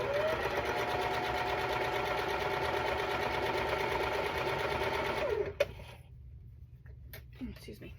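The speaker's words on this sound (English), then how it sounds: "we do the chain stitching because it saves on thread, it saves time" A home sewing machine runs in one long, steady mechanical whir while chain stitching quilt block pieces, then stops abruptly and leaves faint handling noises.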